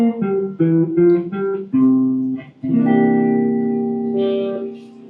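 Electric guitar riff over a C dominant ninth chord, a run of short picked notes climbing an arpeggio, then sustained ringing chord tones, clean and close with some reverb.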